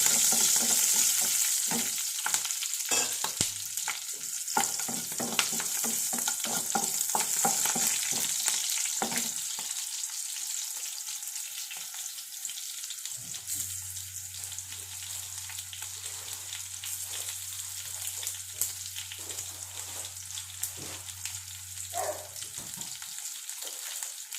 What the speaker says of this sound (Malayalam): കടുകും ഉലുവായും പൊട്ടിയിട്ടുണ്ട്